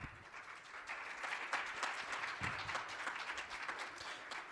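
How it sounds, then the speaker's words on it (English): Audience applause for a panel at a tech conference, a steady, moderately distant wash of many hands clapping at an even level throughout. "give a big round of applause to all of our panelists today"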